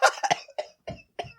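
A person coughs in a fit of six or seven hoarse, close coughs with short gaps between them, the later ones rougher and throatier, with no speech.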